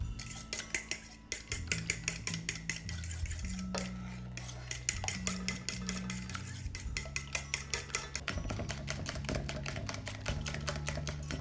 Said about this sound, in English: I have to take my hot honey and sugar mixture and put it into my beaten eggs